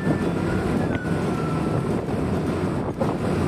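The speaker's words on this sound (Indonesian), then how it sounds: "kita coba agak laju sedikit, teman-teman ya. Kita coba gas pelan-pelan" Steady wind rush buffets the microphone on a motorcycle ride along a detour road near Jalan MT Haryono in Balikpapan, with a faint tone from the slowly opened throttle barely emerging beneath the continuous roar.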